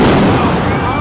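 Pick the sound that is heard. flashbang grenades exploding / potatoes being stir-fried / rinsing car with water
flashbang grenades exploding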